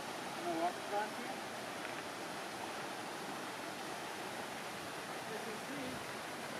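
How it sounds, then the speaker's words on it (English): Lone Pine Creek flowing beside the Mt. Whitney main trail, a steady broadband rush of stream water that stays even throughout, with a brief faint voice-like sound near the start. "Northward, go Lone Pine Creek. I'm gonna walk across here."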